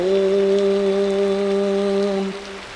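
Steady rain falling, a continuous even hiss under a sustained low humming tone that cuts out near the end, leaving only the rainfall.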